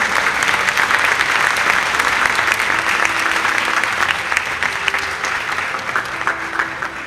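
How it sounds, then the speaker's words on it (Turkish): A theatre audience applauds the director of a play, giving dense, sustained clapping that fills the whole stretch at steady volume and fades slightly toward the end, with no speech over it. "Kocaman alkışlar Deniz Atam için gelsin"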